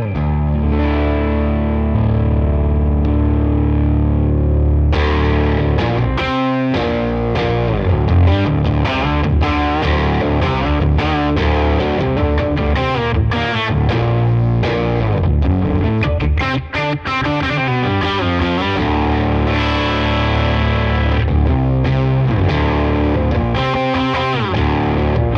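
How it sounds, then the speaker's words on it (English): Electric guitar run through a Boss SY-1 synthesizer pedal set to a bass synth tone, playing a continuous thick, distorted, octave-heavy line with steady loudness for over twenty seconds, getting busier after the opening notes. "So this is a bass synth going on and it sounds like an octava, but it's different than an octava."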